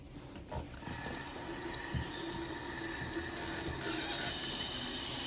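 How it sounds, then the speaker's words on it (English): A faucet is turned on for handwashing, a brief squeak and clunk, then lukewarm tap water rushes steadily into the sink, close and continuous. "But to do that, I have to turn on the faucet with a paper towel."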